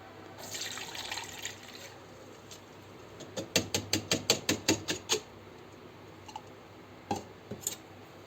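Soaked liquid being strained into another container: a soft trickle and pour at first, then a rapid run of about ten distinct drips or splashes, followed by a few scattered drops, fairly quiet and close.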